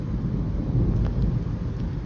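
A deep, continuous rumble of thunder from a violent storm over Bordeaux rolls on throughout, with a soft hiss of rain behind it.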